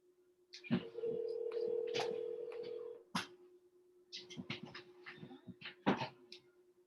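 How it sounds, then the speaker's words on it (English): An outgoing telephone call connects and rings: a steady ringback tone sounds over the line for about two seconds, amid clicks and scattered noises, followed by further crackly line sounds. "we're giving Leslie a call"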